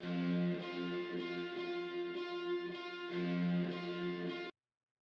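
Sustained, slightly distorted electric guitar chords ring in layered tones, steady and close, cutting off abruptly near the end.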